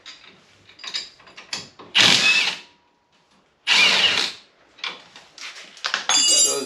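A power tool whirs in short bursts up close while removing a 13 mm nut from the front brakes of a RZR side-by-side, with two long loud runs and quieter ratcheting spurts between pauses.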